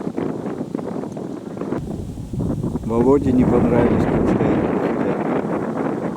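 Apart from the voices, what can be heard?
strong wind blowing during goose hunt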